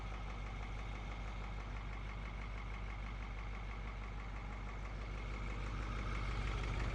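A Caterpillar V8 truck engine idles loud and close, a steady low rumble with a slightly uneven, knocking pulse that holds for the whole stretch and swells a little at the end.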